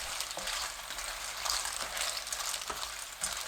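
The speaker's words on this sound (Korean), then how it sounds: "1분 30초 후 바지락, 미림 1큰술 넣고 중불로 바지락 잎이 벌어질 때까지 볶습니다" Clams with a spoonful of mirin stir-frying over medium heat in a pan, a continuous close sizzle with occasional stirring scrapes.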